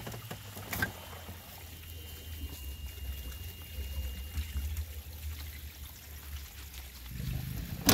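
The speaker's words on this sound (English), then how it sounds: "Now let's see what kind of flush we get." Water rushing and trickling through an RV black and gray holding tank during a flush, a steady low gurgling flow with a few clanks, swelling louder near the end.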